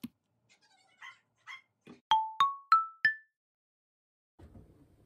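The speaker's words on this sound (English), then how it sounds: "So Pacquiao was barking" Four sharp, loud dog barks in quick succession, preceded by a few softer whimpers and yips, with faint rustling afterward.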